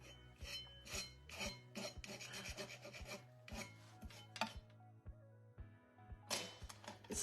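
Half-dried paint is scraped off a small decorative window piece. Short, close, repeated scratchy rasping strokes come in bursts over a soft, steady musical background.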